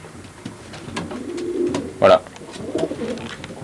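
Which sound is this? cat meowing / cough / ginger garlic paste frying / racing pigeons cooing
racing pigeons cooing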